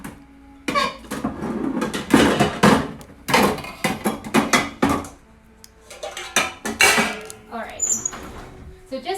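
Metal cake pans clatter and scrape as someone rummages through a kitchen cabinet, a burst of loud bangs and rattles followed by lighter clinks and shuffling, with a voice speaking briefly.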